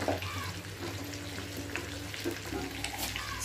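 Fish coated in masala fries on a low flame, giving a soft, even sizzle with faint bubbling and occasional light stirring under a low steady hum, fairly quiet and continuous throughout.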